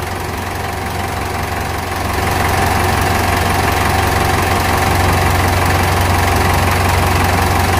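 A diesel engine idles steadily with its oil filler cap removed to check for blowby, a loud continuous rumble with a constant low hum that steps up slightly in level after two seconds and then holds.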